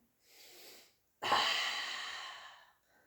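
Two breaths during a Pilates mat exercise: a soft inhale, a brief pause, then a longer, stronger exhale that slowly fades, close and alone with no talking.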